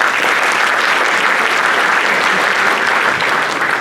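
A large audience at a Diwali cultural program in Panama City, Florida applauds volunteers: dense, steady, loud clapping that fills the whole stretch without letting up.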